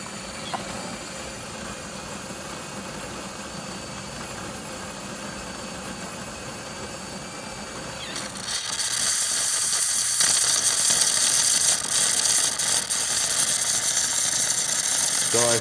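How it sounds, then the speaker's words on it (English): Jura Impressa Z6 espresso machine with a milk frothing fault: a steady mechanical hum and rattle that switches partway through to a louder, harsh sputtering hiss of steam, continuous and close. "today we're testing this Jura Impressa Z6 espresso machine"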